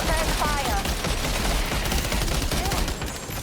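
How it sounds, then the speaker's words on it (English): Gunfire in Death Stranding 2 rattles in dense, continuous rapid bursts, loud and close, filling the whole stretch with a steady crackling fusillade. "Pull out a gun myself and start firing."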